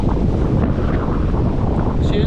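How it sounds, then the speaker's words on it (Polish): Strong storm wind by the sea roars and buffets the microphone continuously, a loud low rumble with gusty bursts throughout. "A wiatr daje i nie przestaje, powiem."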